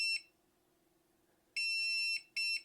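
Three high electronic beeps from an electric pruner shutting down: a short one, a pause, then a longer tone and a quick final beep, clear and close with no talking.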